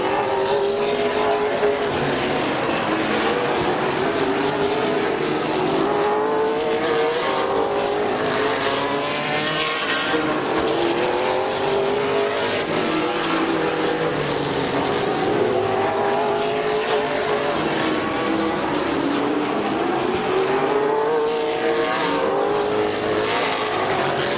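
Dirt-track race cars at Midvale Speedway roar past in waves, engine pitch rising and falling as the cars circle, a continuous loud drone of several cars at middling distance.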